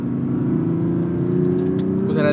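Mazda CX-60 with the 3.3L diesel engine heard from inside while driving, a steady loud low engine drone with a smooth, rising tone and faint rattles near the end.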